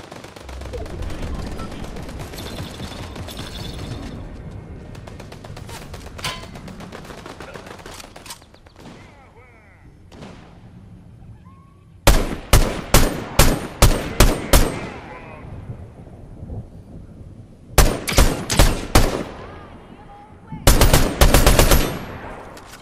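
Sharp, loud bursts of rapid gunfire from a gun in a video game arrive in clustered volleys in the second half, after a stretch of busy game sound and music with a voice talking.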